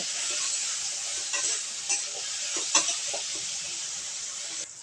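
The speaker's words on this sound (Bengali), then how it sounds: "এবার আমি নাড়াচাড়া করে নেব ভালোভাবে" Taro and soya chunks stirred and fried in a pan with oil, salt and turmeric, giving a steady close sizzle with a few scraping stirs on top.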